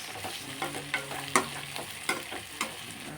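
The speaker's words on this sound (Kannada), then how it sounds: "ನಾನು ಫಸ್ಟೇ ಬದನೆಕಾಯಿ ಫ್ರೈ ಮಾಡಿ ಇಟ್ಕೊಂಡ್ಬಿಟ್ಟಿರ್ತೀನಿ" Brinjal (eggplant) frying in a pan for vangibath gojju, with a steady sizzle under repeated scraping stirs and a few sharper clinks of the spatula, close and fairly quiet, with no talking.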